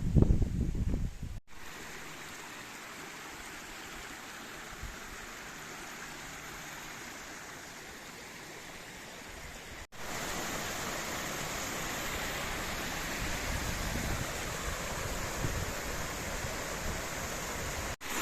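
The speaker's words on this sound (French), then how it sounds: "on va avoir une succession de petites cascades un peu partout. Là, vous avez les ruisseaux qui partent là" A mountain stream tumbles over a succession of small cascades in the Wormsa valley, a steady broadband rush of water that grows louder partway through, with no voices.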